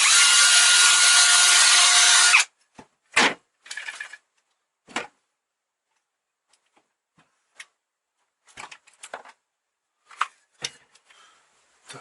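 Unscrewing self-tapping screws from a Forte chainsaw with a fuel leak: a loud powered-screwdriver whir for about two seconds, then scattered small clicks and taps of screws and parts being handled up close.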